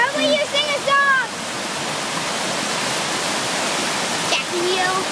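A waterfall's steady broadband rush fills most of the stretch, heard from a distance, with children's sung and spoken voices over it at the start and the end.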